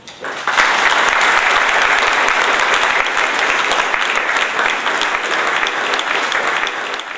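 An audience in a Buffalo lecture hall breaks into sustained, dense applause to welcome architecture lecturer Robert McCarter, the clapping swelling quickly and holding steady for several seconds before easing slightly toward the end.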